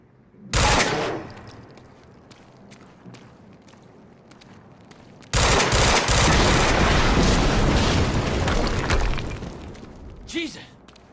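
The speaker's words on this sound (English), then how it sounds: "we just heard an explosion near the harvesting perimeter" Explosions and heavy gunfire in the video game Quantum Break, a sudden loud blast followed later by a long, dense roar of shots and debris, then fading with a brief vocal sound near the end.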